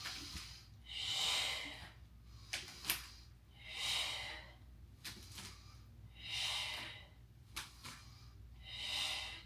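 Slow, deliberate breaths during a Pilates reformer exercise, airy inhales and exhales swelling and fading in a steady cycle about every two and a half seconds, close and clear, with faint clicks and knocks of the reformer in between.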